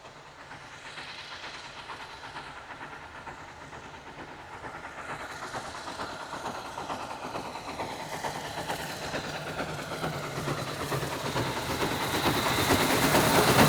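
Steam locomotive number 65 hauls a Pullman lunchtime dining train on a heritage railway, a steady rush of steam and rolling noise that grows louder as the train approaches.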